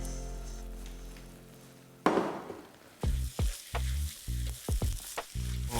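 Rice being tipped into a hot pan with eggs for egg fried rice: a harmonic hum gives way to a burst of sizzling as the grains land, followed by repeated scraping stirs and clattering tosses of the spatula.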